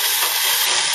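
Vegetables sizzling in a pot for Thai curry, a loud, steady, hissing sizzle filling the whole brief moment, close and unbroken, with no voices.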